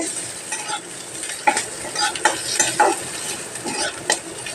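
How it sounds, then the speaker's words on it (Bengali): Frying food sizzles steadily in a pan while a utensil stirs and scrapes with short clattering strokes. "এই যে পেঁয়াজটা ভাজা হয়ে যাচ্ছে,"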